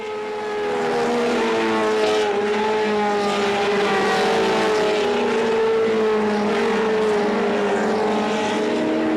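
Race cars, including a Porsche 935 and a Ligier JS3, at the Spa-Classic 2011 historic race, a steady loud engine roar with droning harmonics sustained throughout, no voices.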